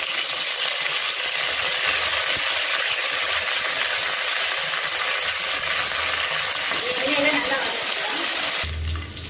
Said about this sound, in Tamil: புதினா கொத்தமல்லி எண்ணெயில் நல்லா வதங்கிடுச்சு